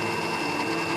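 A kitchen blender runs steadily at full speed, blending ingredients that include steamed-fish-with-lime seasonings, with a loud continuous motor whir and no talk.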